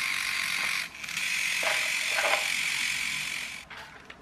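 Gearing inside a Kid Galaxy RC bug toy whirs and ratchets as the motor runs and reverses, a continuous buzzy clicking drone that briefly dips and surges, close and alone.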